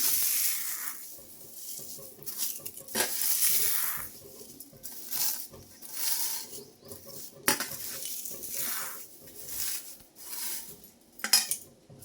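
Neem leaves dry-roast in a dry pan, giving crisp rustling and scraping as they are stirred in repeated bursts, close and soft with no talk.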